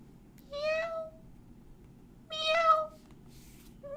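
A person imitates a cat, giving two drawn-out, close meows separated by a pause, alone against a quiet background.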